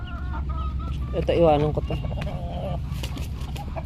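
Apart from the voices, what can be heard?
chickens clucking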